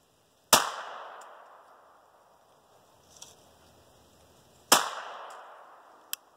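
A .22lr pistol fires into a test target, two sharp, loud, isolated shots a few seconds apart, each with a short decaying ring, plus faint clicks between them.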